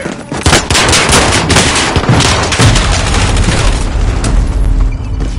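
Loud, dense video game gunfire rages in a battle, rapid machine-gun bursts and booming shots layered into a continuous barrage close by.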